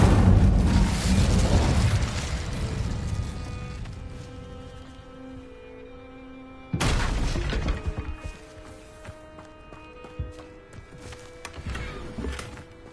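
An Incendio fire spell cast in Hogwarts Legacy: a loud, roaring fiery burst that slowly fades, then a second sudden blast about seven seconds later, followed by scattered smaller crackles and impacts.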